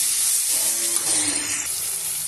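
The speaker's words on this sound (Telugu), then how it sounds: "ఇలా కాకరకాయ ముక్కలు క్రంచీగా అయ్యే వరకు వేయించుకోవాలి." Bitter gourd pieces frying in a pan over a medium flame give a steady, bright sizzling hiss that stays even and close throughout.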